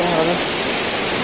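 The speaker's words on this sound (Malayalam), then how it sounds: "വെള്ളച്ചാട്ടത്തിന്റെ സൗണ്ട് കൊണ്ട് നിങ്ങൾക്ക് പലതും കേൾക്കുന്നില്ലായിരിക്കും" Palaruvi waterfall in Kollam district, near Aryankavu and Thenmala, roaring as a loud, constant close-up rush of falling water, with a voice briefly audible underneath at the start.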